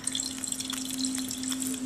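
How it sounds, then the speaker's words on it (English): Water pours in a cooking video game, a light splashing and dripping stream running steadily for a couple of seconds over a faint steady tone, with no voices. "pour water"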